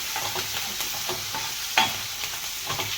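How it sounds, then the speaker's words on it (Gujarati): Ginger and green chilies fry in hot oil for a farali peanut and potato dry bhaji, giving a steady close sizzle with a sharper stirring scrape midway. "આદુ મરચાંને પણ આ રીતે ગરમ તેલમાં જ એડ કરવાના છે, એટલે મરચાં હોય મસ્ત રીતે તળાઈ જશે"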